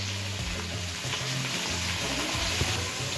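Beans and carrot fry in hot oil in a wok with a constant dense sizzle. Faint stirring clatters are mixed in throughout.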